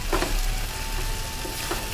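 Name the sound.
sautéing in a pan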